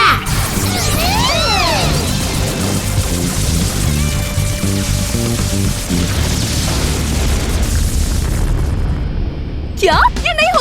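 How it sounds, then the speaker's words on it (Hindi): Cartoon micro missile storm gun blasts off with rising whooshes and a run of booming explosions, dense and loud, followed by a sharp crash near the end. "Micro missile storm gun fire."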